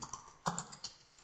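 A handful of quiet keystrokes on a computer keyboard, clicking close by in a short irregular burst with no talking.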